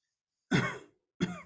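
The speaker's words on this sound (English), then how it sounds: "I got a cough afterwards." Two short, close coughs in quiet after smoking a cigar, the first longer and rougher, the second a quick follow-up.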